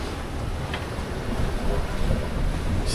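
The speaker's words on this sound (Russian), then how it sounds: "Все, волна поднялась." Rough, steady wash of rising sea waves and gusting wind around a sailing catamaran crossing open water off the Bahamas in strong 30-knot wind, a continuous broadband roar with no voices.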